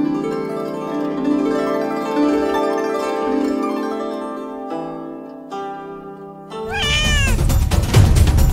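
A young girl on a Vietnamese children's talent show imitates a cat, giving a long drawn-out meow followed by a louder, wavering yowl, with a musical backing track underneath.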